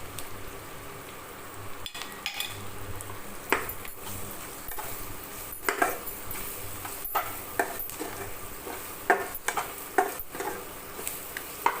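Onions sauté with ginger garlic paste in a pan, a soft frying hiss broken by repeated sharp scrapes and clicks of a spatula stirring. No one speaks.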